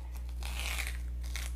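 A strip of tape handled while striping a guitar headstock, giving soft crinkling and tearing rustles in short bursts over a steady low hum, close and quiet.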